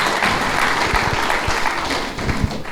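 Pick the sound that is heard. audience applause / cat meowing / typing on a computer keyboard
audience applause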